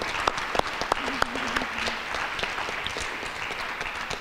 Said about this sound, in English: I hope you can see the standing ovation in the crowd,